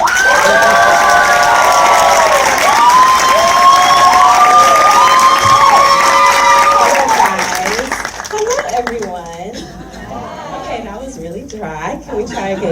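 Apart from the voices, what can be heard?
audience applause and cheering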